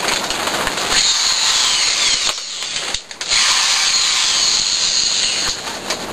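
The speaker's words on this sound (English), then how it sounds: "Now I'm going to be pre-drilling the holes" A power drill pre-drilling holes for a vacuum former runs at high speed with a bright, steady whine, briefly dipping once as the bit bites, then resuming.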